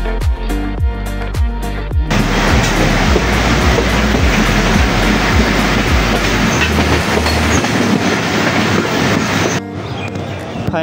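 A train rolls into Alamdanga rail station, first with a steady clickety-clack of wheels over rail joints, then a heavy continuous roar and rumble that drops away sharply near the end.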